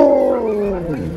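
Alaskan Malamutes in the Arctic Circle howling, a long sustained wavering howl with a falling pitch, close and loud and heard alone.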